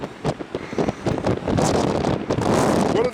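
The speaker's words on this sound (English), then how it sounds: "It's so windy." Strong gusty wind during a storm on Lake Superior, roaring and buffeting the microphone loudly and steadily, with churning surf mixed in and rising toward the end.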